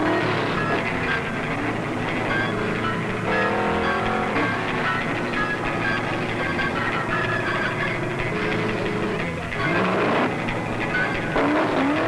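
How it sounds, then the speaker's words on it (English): Stock race cars at the 1972 World 600 NASCAR Winston Cup race roar into the pits under a yellow flag. Loud, continuous engine drone fills the whole stretch, with engine pitch rising and falling as the cars pass by closely. "Most of the field grabs this chance to dive into the pits."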